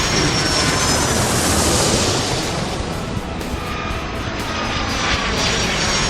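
Aircraft engines roaring during taxiing in the game Airport Madness 3, a dense, loud, continuous jet rumble that eases slightly midway, no talking.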